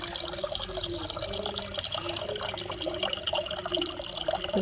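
Water pours steadily in a kitchen garden, a continuous splashing, gurgling flow that stays fairly even and close the whole time.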